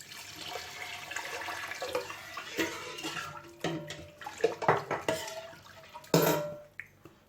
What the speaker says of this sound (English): I want to add some water.